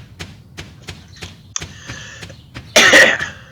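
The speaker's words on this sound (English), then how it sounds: "Cough." A single sharp cough bursts out near the end, preceded by light tapping and clicking sounds at a steady pace.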